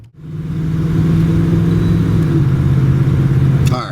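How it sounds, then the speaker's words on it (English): A 1985 Buick LeSabre Collector Edition full-size coupe driving down the road, its engine holding a steady loud hum close by, with a brief click near the end. "the car goes down the road beautifully"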